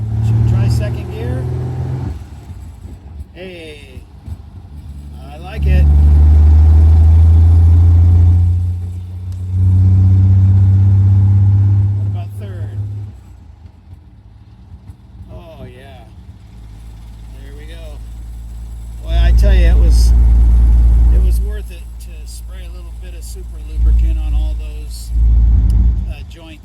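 A 1953 Hudson Super Wasp engine pulling in second gear on its first drive in decades, low rumbling surges that rise and fall between gear changes, with people talking over and between the engine bursts.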